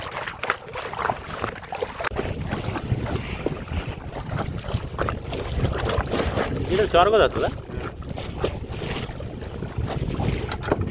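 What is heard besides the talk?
strong wind, waves hitting a small wooden boat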